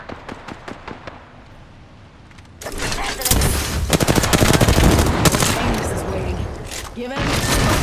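Rapid automatic gunfire in a DMZ or Apex shooter, loud dense bursts that swell and continue for several seconds after a few lighter shots, with a player talking in the background.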